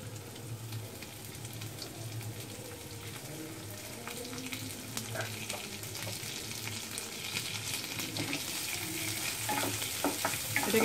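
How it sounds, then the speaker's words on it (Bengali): Chopped garlic and onion fry in oil for a bottle gourd mash, giving a continuous close sizzle with stirring scrapes that grows slightly louder and busier toward the end. "এটাকে একটু ভেজে নিতে হবে।"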